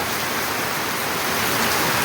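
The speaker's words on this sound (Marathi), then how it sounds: "काल पाऊस सुरू आहे रात्रीचा आणि आतासुद्धा जोरदार पावसाला" Heavy monsoon rain in Maharashtra pours down steadily, a dense, even hiss of downpour that continues unbroken and fairly loud throughout, with no voices.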